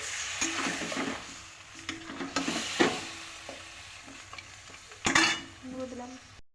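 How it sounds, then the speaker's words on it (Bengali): Goat meat and trotters being stirred in a hot wok, with repeated scraping strokes of a utensil over a steady, close sizzle of frying. "মাংসগুলো এবারে দিয়ে দিলাম কড়াইতে এবার ভালো করে আমি কষিয়ে নেব"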